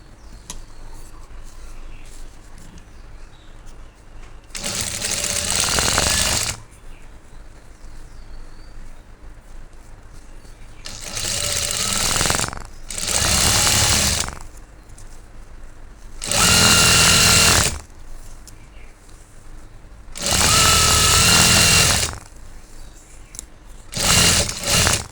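Electric sewing machine stitching the side seam of a salwar, running in five loud bursts of a few seconds each, separated by quiet pauses with faint room hiss.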